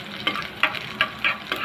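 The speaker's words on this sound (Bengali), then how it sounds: "রসুন একটু হালকা ভেজে নিব।" Chopped garlic with onion and chilli sizzles lightly in hot oil in a pan. A spatula scrapes and stirs in about five evenly spaced strokes over the steady close frying hiss.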